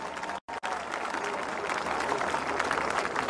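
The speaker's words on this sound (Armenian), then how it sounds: "խնդրում եմ ծափարենք մի հատ գյումրեցիներին" An audience at a political rally in Gyumri breaks into loud, sustained applause, a dense crowd clapping that continues after one short break near the start.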